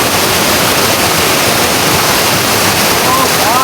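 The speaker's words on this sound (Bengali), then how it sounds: "পাহাড় বেয়ে ঝর্ণার পানি পড়ছে, দেখুন কি সুন্দর" Waterfall water pouring down a hillside, heard as a loud, constant broadband rush that fills the whole span, close and unbroken, with a faint whistle-like tone near the end.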